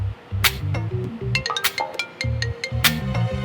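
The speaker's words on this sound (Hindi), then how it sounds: "बैंक वालों का फोन है।" A phone ringing with an incoming call from the bank, a bright melodic ringtone of repeating plucked notes with sharp chiming accents, loud and close, no speech over it.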